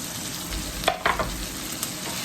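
Small-cut paneer fries and is stirred in a pan, a steady close sizzle with a few brief scraping stirs in the middle, no voices.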